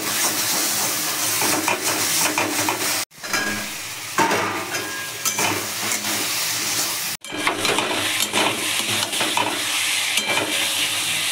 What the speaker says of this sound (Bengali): টমেটোটা দিয়ে এবার একটু কষাবো ভালো করে